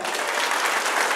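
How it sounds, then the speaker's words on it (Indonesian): A standing audience at a business motivation seminar claps loudly and densely, a brief burst of continuous applause filling the room. "Kau boleh tes tepuk tangan yang meriah."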